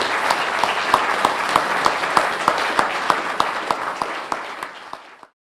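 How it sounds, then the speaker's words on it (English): Audience applause for a panel at the close of its session, a steady wash of many hands clapping at even volume for about five seconds before it stops abruptly. "Let's give them a big round of applause."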